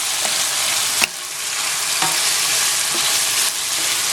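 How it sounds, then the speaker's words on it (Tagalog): Bitter melon with salted black beans sautéing in a pan, a steady loud sizzle with a few sharp clinks of a utensil stirring, no voices. "Hayaan po natin na mag-gisahin pa natin ito."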